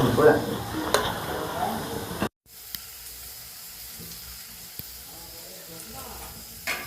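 Cumin seeds sizzle in hot oil while cooking onion and dried fish chutney, a steady close hiss in the opening seconds that cuts off abruptly and gives way to fainter frying crackle with occasional clinks.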